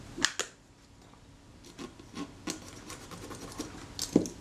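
Metal surfaces and control arms of a Kodak Retina Reflex camera are rubbed clean by hand, giving soft, close scratchy strokes and small ticks at an uneven pace, with no talking.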